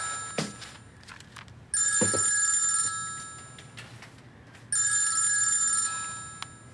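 An indoor telephone rings in two long electronic bursts separated by a short pause, fairly loud and close, with faint footsteps and room sounds between the rings.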